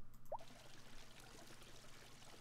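Flowing water in the video game My Time At Portia, a soft continuous stream-like rush with a faint blip near the start, low and steady throughout.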